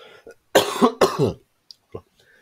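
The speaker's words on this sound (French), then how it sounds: "j'ai toussé, désolé." A single person coughs twice in quick succession, close and clear, followed by a short throat sound and quiet.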